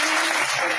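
Audience applause at a National Education Day event in Zaheerabad welcomes a speaker, a steady dense wash of clapping filling the whole short moment at full strength.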